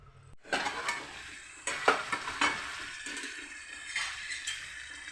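Tomatoes and split mung dal cooking in oil in a pan, a close, continuous sizzle and bubbling with several louder stirring scrapes and splashes spread across the clip, no voices.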